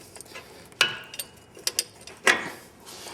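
A ratchet with a 5/8 socket loosening the clutch center bolt on a Polaris Ranger, giving a few close, sharp metallic clicks and ratcheting bursts separated by short pauses.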